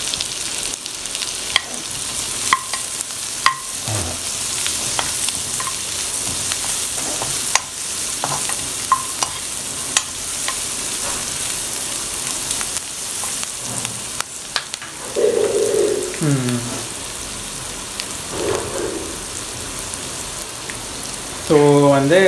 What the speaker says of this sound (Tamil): ஸோ வெங்காயத்தை போட்டுட்டு ஒரு 1 to 2 மினிட்ஸ் கிட்ட கொஞ்சம் நல்லா வதக்கி விட்டுறலாம்.